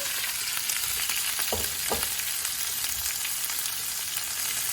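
Peppers stir-fry in hot high-temperature cooking oil, a constant close sizzle and crackle with a couple of louder scrapes and stirring clatters partway through, no voices.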